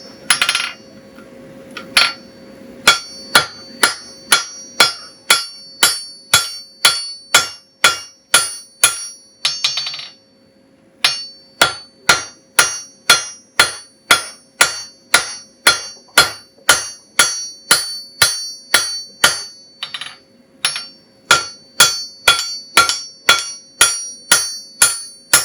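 Hammer strikes on hot metal during forge upsetting, ringing blows in a steady rapid rhythm with brief pauses near ten and twenty seconds, close and loud with no talk.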